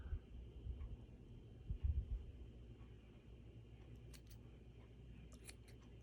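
Scissors trimming the bottoms of a metal and gauze dingly dangle craft piece, a few quiet, sharp snips and clicks near the end after some soft handling noise, faint and close, with no talking.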